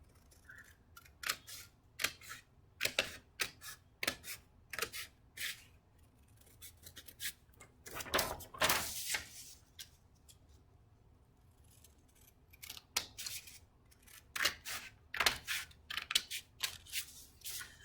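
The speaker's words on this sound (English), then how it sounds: "So let's go ahead and cut our triangle." Scissors snip through paper to cut out a triangle shape for an art project, with a series of short, crisp cuts in quick bursts and brief pauses, close and fairly quiet, no talking.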